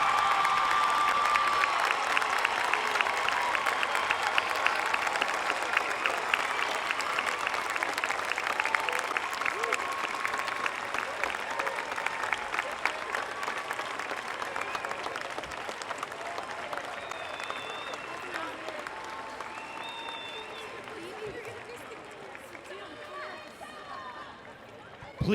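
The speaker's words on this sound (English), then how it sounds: "would you please join me in another round of applause for all the graduates of the" A large crowd applauds the graduating class at a Washington High School class of 2017 commencement, with steady, dense clapping that fills the whole stretch and slowly thins toward the end, with faint cheering mixed in.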